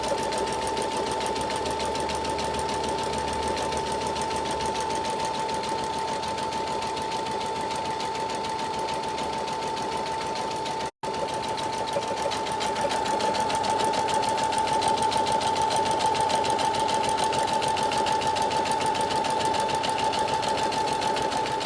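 A Baby Lock sewing machine stitches a buttonhole with a fast, even, whirring chatter, close and continuous apart from one very short break.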